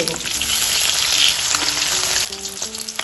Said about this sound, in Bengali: তেলটা গরম হয়ে গেছে এখন আমি লবণ হলুদ মাখিয়ে রাখা মাছটা তেলে দিয়ে দিলাম